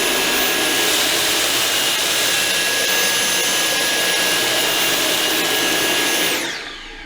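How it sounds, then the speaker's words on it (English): Dyson V6 and V10 cordless vacuums suck up porridge oats with a steady, loud whine and broadband rush that holds for about six seconds and then cuts off as the motor stops. "the next one to suck up are the porridge oats. And we've got the V6 here and the V10 at the back"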